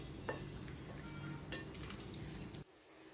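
Chicken karahi frying in a pan, a dense close sizzle with a couple of stirring scrapes before it suddenly drops to quiet near the end.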